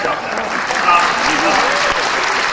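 Audience applause in a lecture hall at Moscow State University during a guest's visit: a steady, dense wash of clapping that lasts the whole moment, with a voice faintly audible beneath it.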